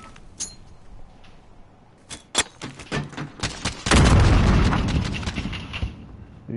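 Gunfire in the Call of Duty Modern Warfare video game: sharp shots stand out at first, then a heavy burst of dense, loud fire takes over, with quieter shots running on after it.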